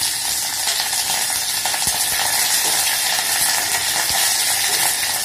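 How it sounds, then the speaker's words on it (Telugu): Mustard seeds, cumin, green and dried chilies and curry leaves sizzle in hot oil, a loud continuous close hiss with small scattered pops and crackles and no speech. "ఆయిల్ వేడయ్యాక అందులో ఆవాలు, జీలకర్ర, పచ్చిమిర్చి, ఎండుమిరపకాయలు,"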